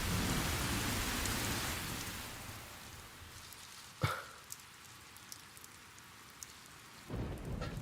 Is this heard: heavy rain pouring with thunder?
yes